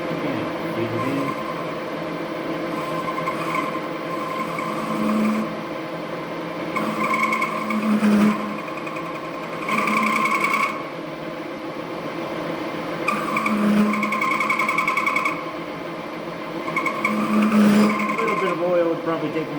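A cutting tool squeals and chatters against a metal hammer workpiece, with repeated high-pitched squealing bursts rising and falling over a steady machine hum.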